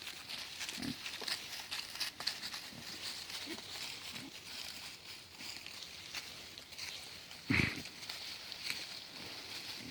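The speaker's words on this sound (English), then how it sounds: "And the pigs are gonna move right in." Pigs on a farm shuffle and grunt faintly as they move in to eat, with soft scattered footsteps and one louder grunt near the end.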